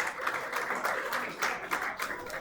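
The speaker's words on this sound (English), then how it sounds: "Big round of applause." Guests at a wedding reception applaud in a short burst of lively, moderately close clapping.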